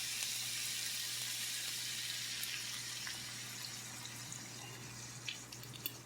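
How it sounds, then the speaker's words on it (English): Wine splashed into a hot pan while cooking konjac rice with leftover chicken kabob fixings, giving a steady, moderately quiet sizzle and hiss that fades slightly over several seconds, with no talking. "I'm going to put a little splash of my wine in here."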